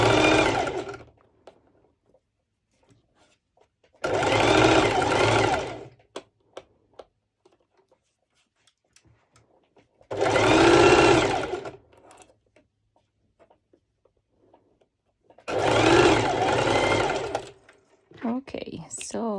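A sewing machine running a basting stitch on fabric in four separate bursts of rapid whirring, each a couple of seconds long with quiet gaps between them.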